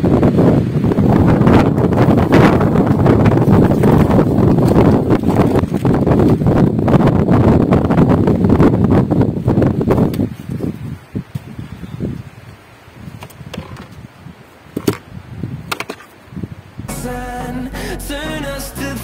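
Wind gusting through ornamental grasses in a garden, a loud steady rush with heavy microphone buffeting that eases partway through, leaving quieter rustling and scattered knocks.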